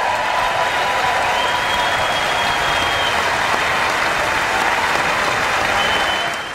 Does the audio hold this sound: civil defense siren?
no